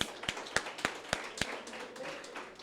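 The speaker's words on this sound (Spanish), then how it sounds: "Un aplauso para Dios" Church congregation applauds, heard as a handful of distinct, fairly sharp claps spaced in a loose rhythm, moderately close, fading into soft room noise afterward.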